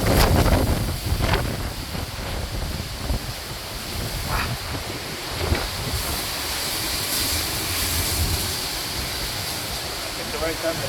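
Strong Hurricane Milton wind gusting through a building hallway, a steady loud roar with buffeting against the microphone and faint voices underneath.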